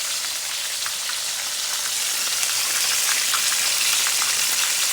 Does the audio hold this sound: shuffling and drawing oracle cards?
no